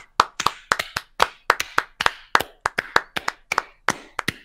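A few hands clap in tribute to a hospital, sharp close claps in uneven quick bursts, fairly loud and isolated with no crowd roar around them.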